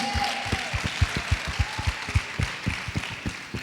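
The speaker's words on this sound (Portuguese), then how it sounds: "Você pode dar uma salva de palmas pro Gui aí?" A small studio audience claps in a sparse, uneven rhythm of distinct hand claps, fairly faint and close, with a brief voice at the start.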